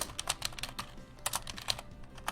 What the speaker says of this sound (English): Again, forgive my typing.